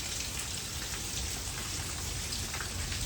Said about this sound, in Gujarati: વરસાદ મસ્તનો ચાલુ થઈ ગયો